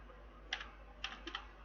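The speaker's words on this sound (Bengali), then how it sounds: "এন্টার কি প্রেস করলাম।" A few quick keystrokes on a computer keyboard while using Tally ERP 9, including the Enter key, come as close, crisp clicks in two small clusters over a quiet background hum.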